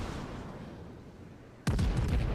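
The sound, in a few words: incoming ship gunfire in World of Warships video game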